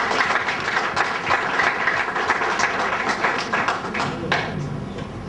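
A crowd at a wedding ceremony gives sustained applause, a dense, fairly loud patter of many hands clapping without pause from start to finish.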